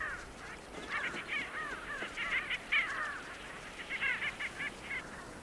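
A flock of sandgrouse calls in a chorus of short, chattering notes, fairly distant over a steady outdoor hiss.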